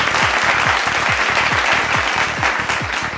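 Loud, dense applause from an audience at a Telugu movie audio launch event, steady clapping filling the whole stretch with a rhythmic low thump repeating underneath.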